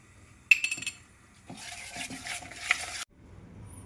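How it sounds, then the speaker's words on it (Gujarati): Brief bursts of a spoon scraping and stirring soda into thick spinach pakora batter in a bowl, close up, with short pauses between. "તેલ ગરમ થાય ત્યાં સુધી આપણે સોડા એડ કરીને મિક્સ કરીશું."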